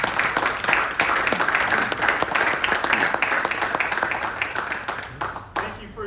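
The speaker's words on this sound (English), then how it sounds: "I hope you'll give him a round of applause." Audience applause for a visiting IDF soldier at a Jewish community event, a dense crowd clapping close and loud that slowly thins toward the end, with voices mixed in.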